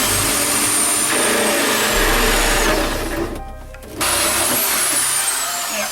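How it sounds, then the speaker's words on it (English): Power drill boring a hole through a boat hull, loud continuous whirring with rising and falling pitch, a short pause before the motor spins up again. "it's time to drill the hole and pop the through hole in there"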